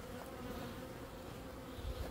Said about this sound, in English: There's bees crawling all over the ground.